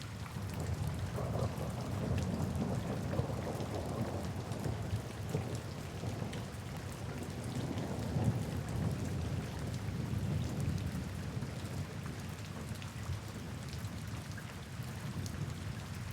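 Steady rain falls throughout a thunderstorm in a forest camping setting, with deep rolling thunder rumbling under the constant hiss of rain.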